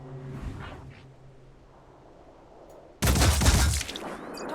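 Gunfire in the tactical game Phoenix Point, a loud, sudden burst of rapid shots that breaks in after a quiet stretch and fills the remaining seconds with a dense rattling volley.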